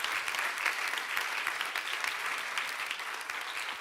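An audience applauding at a university science contest, a dense, sustained clapping that stays loud and steady throughout with no voices standing out.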